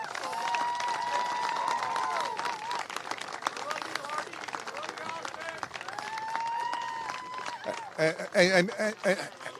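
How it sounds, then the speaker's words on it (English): A crowd claps steadily for several seconds, with some whistles and cheering mixed in, before a voice starts talking near the end, at a men's rugby national championship match. "give you a round of applause to all your fans who came out in support"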